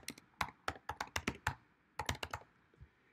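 Quick bursts of typing on a computer keyboard, close and crisp, with key clacks in two rapid runs separated by a short pause, in a quiet room with no talking.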